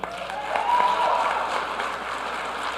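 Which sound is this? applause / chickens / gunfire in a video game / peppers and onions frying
applause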